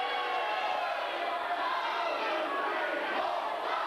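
Wrestling crowd at an independent show chanting along in unison during a brawl in the ring, a dense, steady roar of many voices that stays loud and unbroken throughout.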